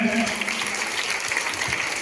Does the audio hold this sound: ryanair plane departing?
no